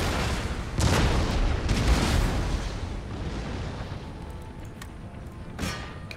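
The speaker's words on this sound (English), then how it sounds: "Canister shot." Artillery firing canister shot in the strategy game Empire: Total War, heard as several deep booms and blasts rumbling across a noisy battlefield, with a couple of sharper cracks near the end.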